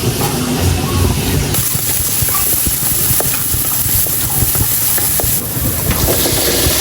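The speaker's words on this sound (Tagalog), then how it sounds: "Igisa ko na po itong bawang at sibuyas" Garlic and onion sauté in a pan for pork menudo, a loud, steady sizzle joined by the scrape and clatter of stirring throughout.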